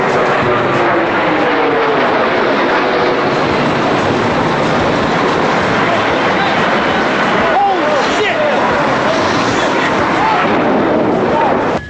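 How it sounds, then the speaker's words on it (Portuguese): An American Airlines jet on the Boston to Los Angeles route strikes the World Trade Center, a loud, sustained roar and rumble with blast-like noise, while voices shout and talk throughout. "Veja o choque do primeiro avião contra o World Trade Center."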